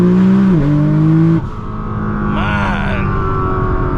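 A 2000 hp Nissan GT-R accelerates hard in manual mode with paddle shifts, its loud engine note rising, cutting at a shift, then climbing again through the next gear.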